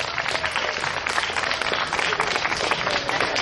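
Dense applause and clapping from an audience at an outdoor Sakura Matsuri cherry blossom festival performance in New York City, steady and sustained throughout at a fairly loud, even level.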